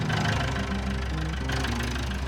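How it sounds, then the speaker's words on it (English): A tractor engine running close by, a loud, steady low rumble with a rough knocking texture and slight shifts in pitch, with no talk over it. "First tractor I learned to drive."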